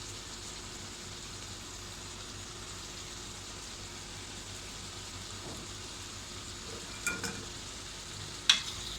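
Spinach for aloo palak frying and being stirred in a pan, a steady soft sizzle with a few sharper scrapes and clinks near the end, no voices.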